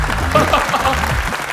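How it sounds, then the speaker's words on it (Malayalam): An audience at a stage event bursts into applause, clapping mixed with murmuring voices and a louder swell near the middle, close and fairly loud throughout. "നല്ലൊരു കൈയടി."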